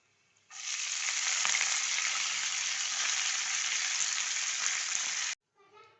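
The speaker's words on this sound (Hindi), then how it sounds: "बघार तैयार हो गया। अब ये धुली हुई मेथी इसमें डालनी है।" Washed fenugreek leaves hit hot oil and sizzle loudly in a steady, intense fry lasting about five seconds before cutting off abruptly, with no voices present.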